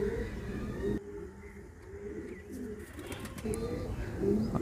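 Indian high flyer pigeons coo in soft, repeated low calls close by, with faint chirps and light background noise.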